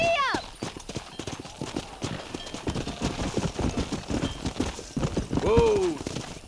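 Horse galloping in the video game Red Dead Redemption during a cattle-driving mission, rapid hoofbeats throughout with whinnies at the start and near the end, under shouted voices.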